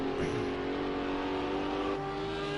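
GT3 race cars at Sakitto GP in Project Cars 2 hold a loud, steady engine whine at high revs, with a faint downshift near the end.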